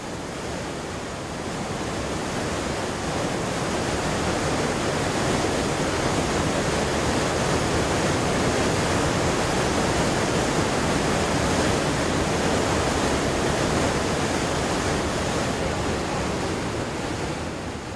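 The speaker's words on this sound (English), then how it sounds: "Upon entering the cave, the visitors are welcomed by an 8-meter-high waterfall." An 8-meter-high waterfall pours inside a cave in Samcheok, a dense, unbroken roar of rushing water that stays loud and even throughout, with no voices.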